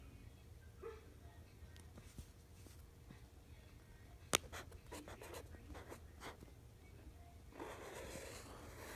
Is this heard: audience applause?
no